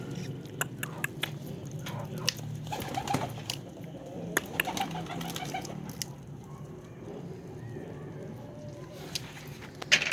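Low pigeon cooing at a pigeon loft in Kadirli, Turkey runs through a busy, noisy background with scattered clicks and rustles, fairly continuous for the whole stretch.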